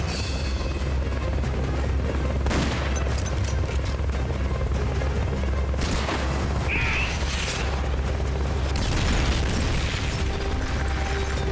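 Grenade blasts and gunfire erupt during a firefight in the video game Metal Gear Solid: Peace Walker, with several loud booms and bursts over a constant low mechanical drone.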